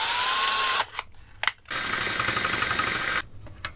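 A power drill bites into the metal chassis of a Dumble-style amplifier build, enlarging a hole for a foot switch: a loud whining burst, a short stop with a brief blip, then a second longer grinding run before cutting off.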